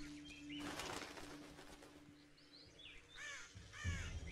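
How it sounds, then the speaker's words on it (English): Crows cawing in The Witcher 2, several harsh calls repeating near the end over a steady ambient game background with a low hum. "Crows, pigeons, whatever."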